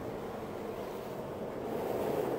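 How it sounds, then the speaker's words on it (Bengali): Storm wind howls over the sea at night in a steady, broad rush that grows slightly louder toward the end, with no voices. "আপনারা নিশ্চয়ই বাতাসের যে শব্দ সেটা শুনতে পাচ্ছেন।"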